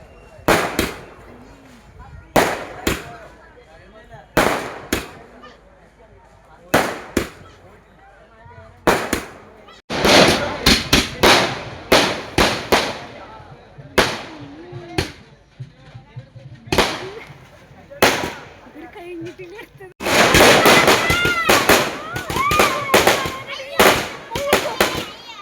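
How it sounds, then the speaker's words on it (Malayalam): Festival fireworks at Vattambalam Pooram burst in sharp, loud cracks, sometimes single and sometimes in rapid crackling volleys, with voices faintly heard between the blasts. "പിന്നെ വെടിക്കെട്ട് തുടങ്ങി കേട്ടോ"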